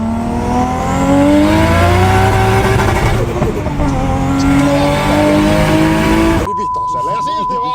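A McLaren sports car accelerates while driven in sport mode, its engine note climbing loud and steady for several seconds, with people talking over it before it cuts off abruptly.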